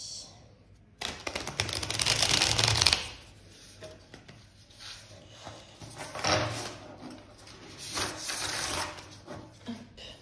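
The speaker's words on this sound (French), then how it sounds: "je vais mélanger le paquet et on pourra se lancer" A deck of cards riffles and slides in several quick bursts, a close, dry papery rustle repeated with short pauses between shuffles.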